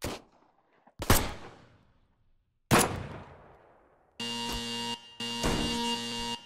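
Single gunshots at a shooting range in an indie horror video game, three sharp loud cracks with ringing decay, followed by two sustained tonal bursts of game sound, no talk.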